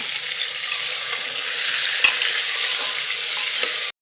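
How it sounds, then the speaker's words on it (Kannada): Mutton and onions frying in a pan, a loud even sizzle holding steady throughout, with one sharp clink midway before the sound cuts off abruptly. "ಮಟನ್ನು ಚೆನ್ನಾಗಿ ಫ್ರೈ ಮಾಡ್ಕೊಳ್ಳೋಣ"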